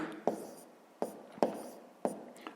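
Numbers written by hand during a sixth-grade maths exercise: several distinct pen strokes tap and scratch across the paper at irregular intervals, close and clear with no voices.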